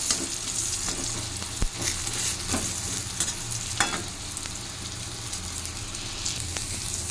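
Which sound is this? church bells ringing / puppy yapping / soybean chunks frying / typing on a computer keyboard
soybean chunks frying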